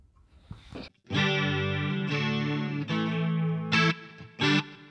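Electric guitar played through distortion with a swirling chorus effect from a TC Electronic Stereo Chorus+ pedal, sustained chords ringing out loudly with a couple of short stabbed accents near the end.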